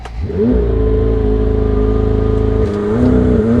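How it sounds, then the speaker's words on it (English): A McLaren 720S launches at full throttle, a loud close engine roar that climbs steadily in pitch, dips briefly at a gear change, then climbs again. "Launch enabled, waiting full throttle"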